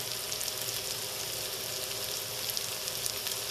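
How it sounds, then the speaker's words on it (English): Onions frying in a pan with cinnamon and a bay leaf, giving a constant soft sizzle and crackle throughout, fairly quiet and steady, with no voices. "I'm going to cook this for about 3 minutes until those onions start to get brown and delicious."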